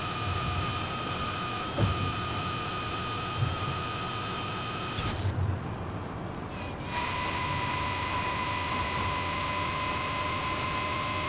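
Electric Hyundai N Vision race car launching off a ramp and flying in Forza Horizon 5, a steady loud high electric whine that drops away briefly mid-air, then returns at full pitch on landing.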